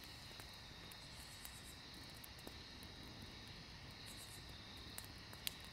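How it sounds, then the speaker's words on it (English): Steady, faint chirping of crickets and katydids fills the night air, a high continuous buzz with scattered clicks and a distant low rumble. "I hear crickets and katydids."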